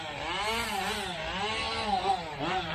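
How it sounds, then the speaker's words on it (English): A chainsaw carving wood at an outdoor agricultural expo drones steadily at a moderate distance, its engine pitch rising and falling as it revs and bites into wood. "Got a chainsaw carver here."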